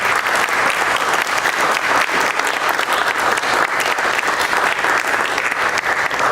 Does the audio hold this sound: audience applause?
yes